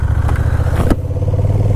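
A Honda Rebel 1100 automatic cruiser motorcycle pulls away, its engine rumbling loud and close as it accelerates, with a brief clatter partway through.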